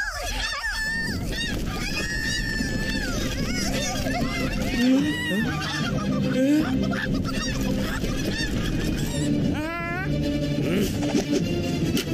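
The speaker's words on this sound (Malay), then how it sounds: "Sampai korang semua dikejar angsa." Geese in an Upin & Ipin cartoon honk repeatedly and loudly as they chase children, their calls overlapping with shouting voices and busy background sound.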